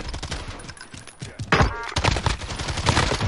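Rapid bursts of gunfire in a first-person shooter game, close and loud, with dense overlapping shots and a sharper volley midway through.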